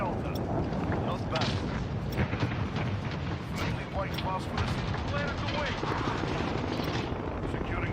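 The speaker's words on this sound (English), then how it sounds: "Now the gunship's starting to come into view of D." A gunship circles overhead in the Modern Warfare video game, its steady rumbling drone filling the scene under a dense layer of gunfire and explosions, with a player talking over it.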